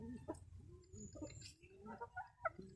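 Breeder chickens on a farm, a Santa Ana finisher rooster and a Pagudpod finisher hen, give soft, irregular clucks and short calls. The sounds are faint and close together over low background noise.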